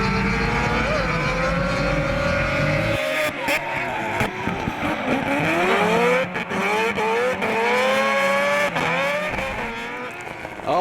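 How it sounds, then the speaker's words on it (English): Mad Mike Whiddett's drift car with a 26B quad-rotor engine screams down the track during a drifting championship, a loud sustained high-revving wail that rises and falls with shifts and backfires, tire noise mixed in. "Mad Mike Whiddett stomping the 26B quad rotor down the track, wide, smoky, big backfire there"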